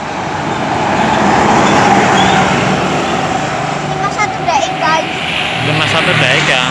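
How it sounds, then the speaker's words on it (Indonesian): A Sinar Jaya bus drives past on the Ajibarang–Bumiayu main road, its engine rumble and road roar loud and steady throughout amid general traffic noise, with brief higher-pitched mechanical squeals near the end. "Dan ini ada bus Sinjai"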